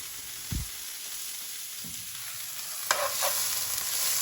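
Wombok and other greens stir-fried in a hot pan and pushed around with tongs, with a soft continuous sizzle broken by a few scraping and clanking touches of the tongs.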